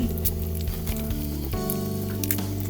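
Steady, close sizzling of black gram dal, cumin, mustard seeds, turmeric, dried red chillies and asafoetida in hot oil, with a busy crackle running throughout and brief tonal hums layered over it.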